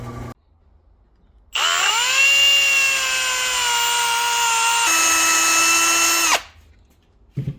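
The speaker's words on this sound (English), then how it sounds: "I'm going to go ahead and drill those out" A power drill whines loudly for about five seconds, its pitch steady, then dropping briefly before it cuts off, with brief clatter before and after.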